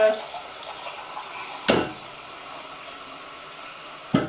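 Water splashes steadily into a cooking pot as about three pints are poured for groundnut porridge, a continuous close stream with two sharper clanks or splashes.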